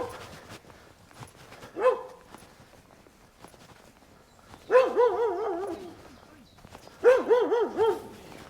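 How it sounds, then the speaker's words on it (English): Dogs bark in short bursts on a coastal ridge walk east from Newton Beach, Porthcawl: a single early yelp, then two loud clusters of several close, harmonic barks separated by quieter stretches of footsteps and outdoor ambience. "There's a couple of dogs staring at me."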